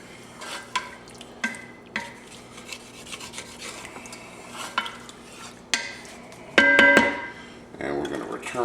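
A spoon scraping and rasping around a pot of sloppy roast beef, with irregular stirring strokes and clinks, close up, plus a louder metallic clatter near the end.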